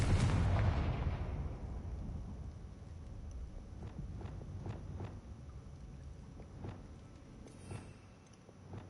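A Confringo blasting spell detonating in a Harry Potter video game, a heavy booming blast at the start that decays into a long low rumble with scattered faint crackles, no speech.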